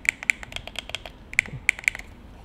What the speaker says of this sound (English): first of all, the thumbsticks click in